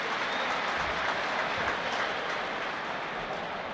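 A football crowd at a Sunderland versus Millwall match roars and claps steadily in response to a shot at goal, a dense, continuous wash of noise with no talk over it.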